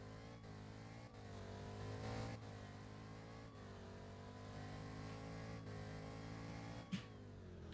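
A Ford car in a driving video game accelerates in sport mode, its engine note climbing steadily through several gear changes with brief dips between shifts, moderately close and without speech.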